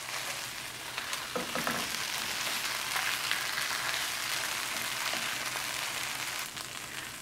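A chicken quesadilla sizzles steadily in a hot pan, with a continuous close frying hiss and a few soft scrapes and bumps as it is turned over.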